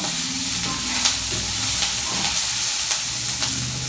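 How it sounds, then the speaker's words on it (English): Garlic and onion stirred in a hot frying pan for a spicy tomato basil zucchini dish, a steady loud sizzle with spoon scrapes running throughout. "Stir that garlic because your garlic will burn real fast"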